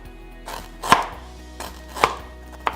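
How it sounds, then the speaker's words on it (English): A knife slices fresh ginger thinly on a cutting board, giving three crisp, separate chops with short pauses between them, close up and clear, with no voices. "Then you want to slice your ginger as thinly as you can."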